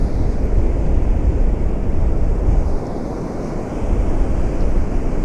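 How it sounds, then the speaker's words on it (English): White-capped sea rollers break onto the shore at Easington on the East Coast at night, a loud, continuous rumbling surf with wind buffeting the microphone, swelling and easing slightly midway. "With all them white rollers coming in."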